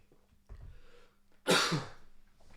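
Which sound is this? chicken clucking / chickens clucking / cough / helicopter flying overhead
cough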